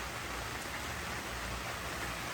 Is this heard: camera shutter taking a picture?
no